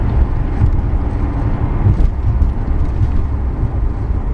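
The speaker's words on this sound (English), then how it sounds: "You can hear it shift because you can hear the exhaust in this car" Inside a Chrysler 300C SRT-8 under acceleration, a loud, steady low exhaust rumble drones throughout, with a brief shift dip midway and no talking.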